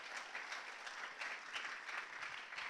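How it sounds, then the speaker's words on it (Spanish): A Spanish-speaking church congregation at a Christmas sermon claps together, a brief burst of applause with audible individual clap peaks in a loose rhythm, moderately distant and fairly quiet. "¿No lo quieres celebrar conmigo en un aplauso?"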